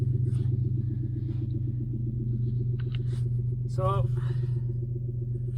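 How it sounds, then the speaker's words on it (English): A 1994 Lexus LS400 with a 4.0 V8 that has sat long without battery power is running at idle, giving a steady low rumble throughout, with a brief higher whine near the end and a short spoken word over it. "Now I'm out starting up the Lexus LS400, the 94 model."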